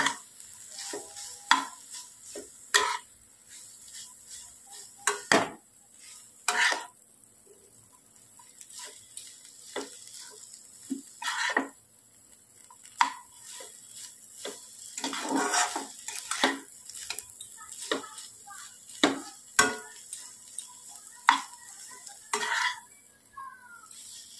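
Village-style Maggi noodles are stirred and mixed in a pan, with a soft sizzle beneath repeated metal utensil scrapes and clinks against the pan in irregular bursts.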